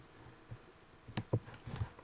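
A few soft computer mouse clicks, spaced irregularly and close by, on a quiet background while launching a cloud server instance.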